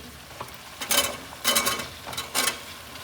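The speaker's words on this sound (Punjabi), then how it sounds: "ਹੁਣ ਆਪਾਂ ਇਹਦੇ ਵਿੱਚ ਪਾ ਦਈਏ ਸਬਜ਼ੀ" Cauliflower florets tipped into a hot pan of oil and stirred, giving three or four bursts of crackling sizzle with scraping between them, close and fairly loud with no talk.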